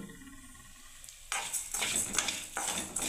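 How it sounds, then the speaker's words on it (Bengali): Vermicelli (semai) being fried in a pan is stirred with a utensil, giving rough scraping and rustling bursts against the metal after a quieter opening. "এবার আমি সেমিটাকে নাড়তে থাকবো বন্ধুরা।"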